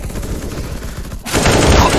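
Gunfire in the shooter game Skill Guardian, a rapid machine-gun burst that starts muffled and then swells suddenly to loud, dense firing in the second half.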